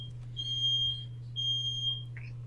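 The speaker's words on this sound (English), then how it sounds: "Somebody's smoke detector's going off." A smoke detector chirps out two sustained high electronic beeps in a quiet indoor room, each lasting under a second with a pause between, over a steady low electrical hum.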